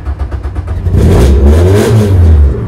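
A Citroen race car engine turns over and catches, then revs up with a loud, deep roar close by, at Brands Hatch circuit.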